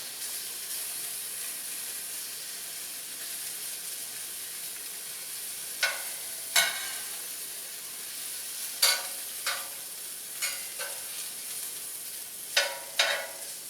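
Onion frying in a little hot canola oil for a smash burger, a steady close sizzle with occasional sharper pops and crackles scattered through.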